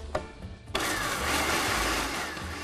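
A food processor pulses rolled oats, starting with a sudden loud motor whir after a short quiet moment and holding a steady, gritty buzzing roar with chopping texture for about two seconds.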